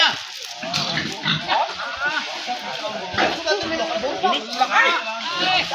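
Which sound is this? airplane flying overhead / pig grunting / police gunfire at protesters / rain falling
pig grunting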